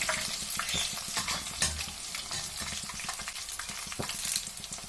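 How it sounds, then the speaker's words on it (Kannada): Chopped green chillies sizzle and fry in a pan while making coriander chutney, a steady close crackling hiss with bursts of spattering and stirring scrapes, no voices. "ಮೆಣಸಿನ್ಕಾಯಿ 1 5-6 ಕಟ್ ಮಾಡಿ ಸೇರಿಸ್ಕೊತಾ ಇದ್ದೀನಿ"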